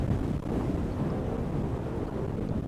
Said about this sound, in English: The most windy game I've ever done anywhere.